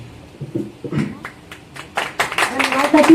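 A crowd claps at the inauguration of a library in Gorakhpur. Scattered claps start sparse and build into fuller applause toward the end, with talk mixed in.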